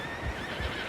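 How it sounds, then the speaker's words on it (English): Horses neigh and whinny in Red Dead Redemption 2, a short burst over a dense, steady game soundscape with faint hoof-like thumps beneath. "Horses, quite a few of them."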